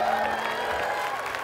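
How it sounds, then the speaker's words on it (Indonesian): A studio audience applauds for Solehat on a dating game show, a dense sustained clapping with some crowd noise and voices mixed in. "Tepuk tangan buat Solehat"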